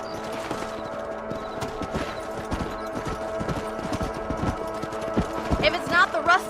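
Horses gallop in Red Dead Redemption on Xbox 360, a steady rapid clip-clop of hooves running through the whole stretch, with game music and a brief neigh-like sound near the end.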